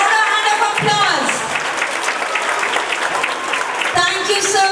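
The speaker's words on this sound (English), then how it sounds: "Louder hand of applause." Applause from a school audience at a Republic Day function, honoring the school correspondent: sustained crowd clapping at a fairly loud level, with a voice talking over it throughout.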